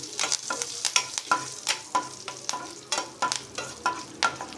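Curry leaves crackle and sizzle in hot oil while tempering for coconut chutney, with rapid bursts of popping and spatula stirring, loud and close, with no speech.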